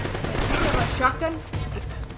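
Shotgun fire in Uncharted: Drake's Fortune, a short burst of sharp blasts in the first second, then scattered fainter shots and clatter, loud and close.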